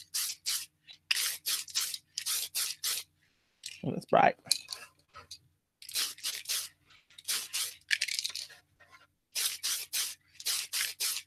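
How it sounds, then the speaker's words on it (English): Bursts of aerosol spray paint hiss in short, repeated blasts onto ZM terrain tiles, close and crisp with quiet gaps between them, and a brief spoken comment breaks in midway. "I'm spraying up here and letting the overspray come down and work it"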